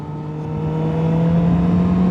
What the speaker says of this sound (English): you can't go wrong with that engine, that inline 4